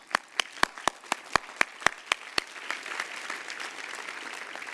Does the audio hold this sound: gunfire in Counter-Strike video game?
no